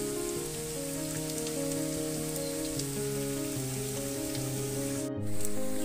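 Soya chaap pieces sizzle steadily in hot oil while frying, a continuous close crackle running beneath tonal background music, with a brief louder burst near the end.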